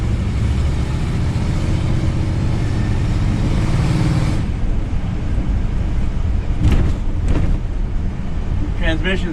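A Fleetwood Southwind 29-foot RV with a V8 454 motor drives along, its engine and road noise a steady low rumble that eases partway through, with a few knocks and creaks near the end.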